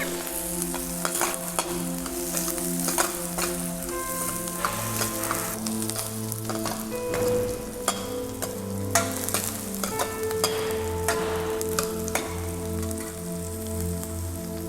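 Onions fry in a pan for sarson da saag, giving a steady, close sizzle with scattered crackles and stirring scrapes, while tonal background music plays underneath throughout.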